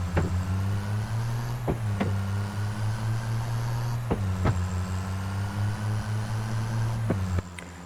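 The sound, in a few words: loud truck gear shifts in Farming Simulator 25 video game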